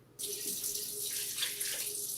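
Water from a kitchen tap switches on abruptly and pours in a steady close hiss that lasts to the end, with no talking over it.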